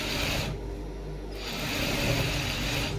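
A sewing machine runs through shirt piping in two bursts of fast, rasping mechanical stitching, pausing briefly in between, close and fairly loud with no talk.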